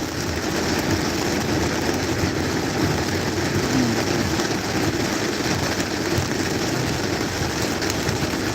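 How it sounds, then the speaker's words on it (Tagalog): Heavy rain pours steadily and loudly, recorded from above a bridge in traffic with an engine hum blending in, a dense continuous wash with no pauses and no voices. "Grabe ang lakas ng ulan."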